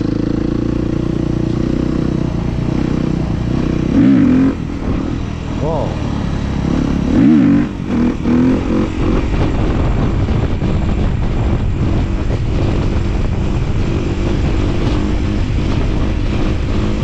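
A motorcycle engine drones steadily throughout wheelie practice, with a few sharper throttle surges near the start. A voice talks over the engine noise.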